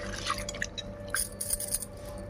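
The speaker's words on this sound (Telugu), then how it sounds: "మనం సంగటిని శుభ్రంగా 1-4 సార్లు కడుక్కోవాలి, గాలించాలి." Sorghum grains swished and rubbed by hand in water while being washed for sorghum porridge, giving soft, close wet squishes and light drips in irregular bursts over a steady low background.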